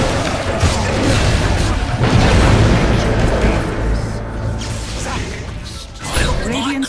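A defensive tower crumbling in a Dota 2 match: loud booming crashes and rumbling debris with whooshing effects over dense battle noise, and an announcer voice speaking at times.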